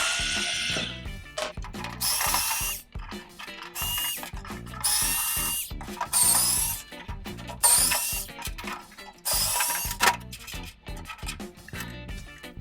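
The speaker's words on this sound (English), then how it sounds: "cordless screwdriver here. We'll quickly remove the screws." A cordless screwdriver backs screws out of the rear panel of an Excalibur food dehydrator, with repeated bursts of whirring and a ratcheting clatter separated by brief pauses, loud and close, in a sped-up sequence.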